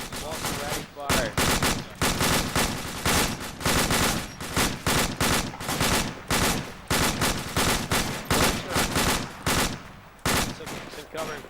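Rifles crack in rapid bursts during an outdoor fireteam drill, loud, near and sharp, with volleys following one another at short gaps throughout.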